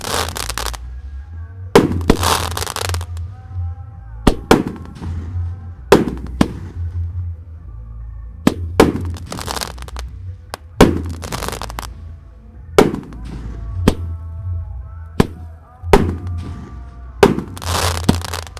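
Two large Roman candles fired at once on a festive night, sharp popping bursts ringing out every second or two over a low rumble, loud and fairly close with no voices.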